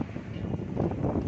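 Strong wind blows hard around Pondok Ungu Permai, a dense rushing roar with uneven gusts and buffeting, with no talking over it.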